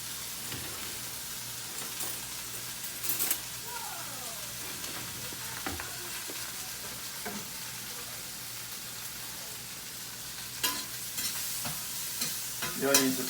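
Steak and onions with a splash of soy sauce fry in a pan on a low flame, giving a soft, continuous sizzle punctuated by a few utensil clicks and scrapes, with no voices.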